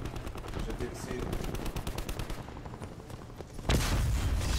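Rapid bursts of gunfire in Call of Duty: Black Ops 4 multiplayer, fast repeated shots followed by a sharp louder blast, with a player talking underneath.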